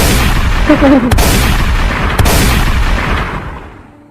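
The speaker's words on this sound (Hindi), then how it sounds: "हाँ गोली मार दे।" Two loud gunshots in a Hindi drama scene about a poor man turned dacoit, sharp cracks about a second apart over a dense rumbling background that fades away at the end.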